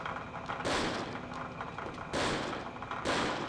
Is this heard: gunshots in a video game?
yes